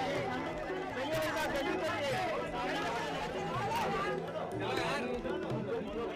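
Dense crowd of devotees at the ancient Nagchandreshwar temple in Ujjain on Nag Panchami, a steady hubbub of overlapping voices and chatter, close and continuous throughout.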